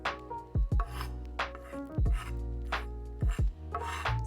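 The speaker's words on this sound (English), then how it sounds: "I'm just chopping up the thyme and the sage" A knife chopping fresh thyme and sage on a board, with sharp, close knocks falling in uneven pairs and clusters, plus soft scraping between them and no talk.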